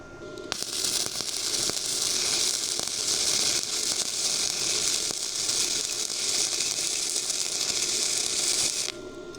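Electric welder laying a bead on metal produces a steady, crackling sizzle close to the mic for about eight seconds, starting and stopping abruptly, with no talking.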